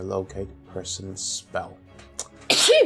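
A single loud, sharp sneeze bursts out near the end, after stretches of people talking close by.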